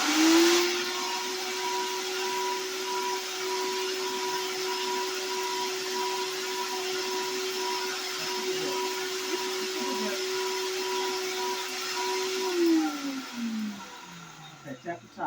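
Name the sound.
blender blending organic garden fertilizer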